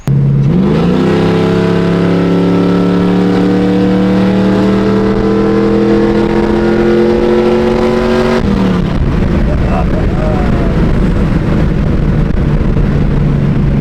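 An LS-swapped Chevy OBS truck engine revs hard during an acceleration pull, its rising drone climbing steadily for several seconds before the throttle lifts and the engine note drops and rumbles, loud and close.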